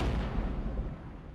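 Artillery fire in the Armored Brigade war game: a dense, low rumbling barrage of distant shell impacts rolling continuously with no clear gaps.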